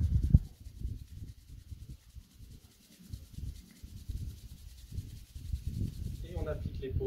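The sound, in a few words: hands rubbed vigorously together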